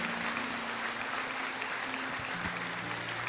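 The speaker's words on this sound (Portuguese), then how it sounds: "Igreja, aplauda essas pessoas." A church congregation applauds together in a sustained, even burst of clapping, with a faint steady tone humming underneath throughout.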